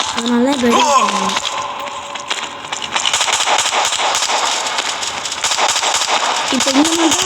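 Rapid bursts of AK rifle fire in a video game crackle on and off across the span, loud and close, with a voice talking near the start and again at the end.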